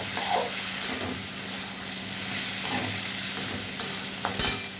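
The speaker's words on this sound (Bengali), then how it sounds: "একটু পেঁয়াজ আর টমেটো দিয়ে দেবো, তেলের সঙ্গে ভালো করে কষিয়ে নেবো।" Onion, tomato and green chilies fry in oil with a close, steady sizzle, while a spatula stirs and scrapes the pan in several soft strokes and a cluster of clinks near the end.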